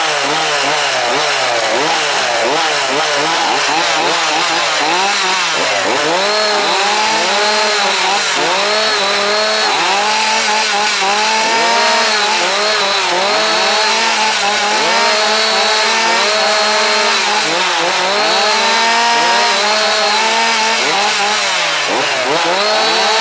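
A high-revving two-stroke racing chainsaw engine screams loudly and continuously, its pitch rising and falling in repeated surges of throttle.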